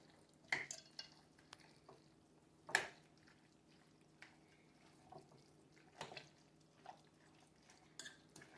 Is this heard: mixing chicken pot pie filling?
yes